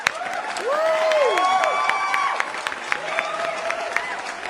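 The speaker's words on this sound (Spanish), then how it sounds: "quiero que recibamos con un fuerte aplauso" Audience applause welcoming a guest on a radio program, with a continuous patter of clapping and a few whoops and voices cutting through throughout.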